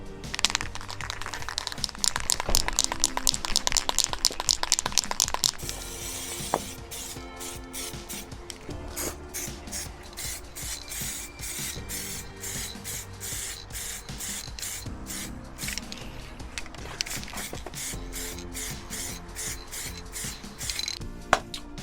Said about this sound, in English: And then now I can spray it with a clear coat.